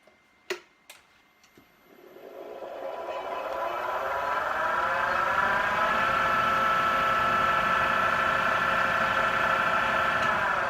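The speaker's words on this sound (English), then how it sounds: "Lock, let's give it a spin. Helps if I turn the power on." A wood lathe turning a finial spins up after a couple of sharp switch clicks, its motor hum rising in pitch over a few seconds and then settling into a steady, close whir.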